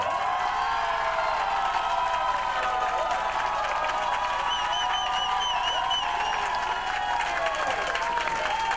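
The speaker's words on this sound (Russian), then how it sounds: "Аплодисменты Демьяну." Studio audience at a televised singing competition breaks into sustained loud applause mixed with cheers and whoops, a dense unbroken wall of clapping and crowd noise.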